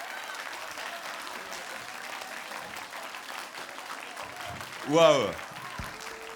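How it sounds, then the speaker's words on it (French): An audience at a talk applauds Titouan Castryck, Olympic silver medallist in slalom kayak, with steady moderate clapping, and one voice lets out a loud exclamation near the end. "Applaudissements pour notre champion!"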